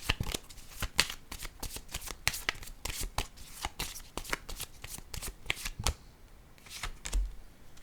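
A deck of oracle cards being shuffled by hand, with a steady run of quick, crisp riffling snaps and flicks close up, alone without any talk.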